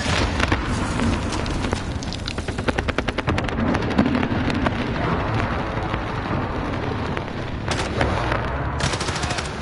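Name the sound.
precision airstrike explosions in Call of Duty video game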